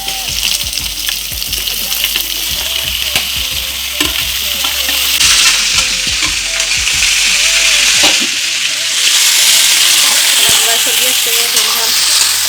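Marinated meat frying in a pan with golden-brown onions gives a loud, steady sizzle, with stirring and scraping clatter throughout that swells to a harsher hiss in the second half.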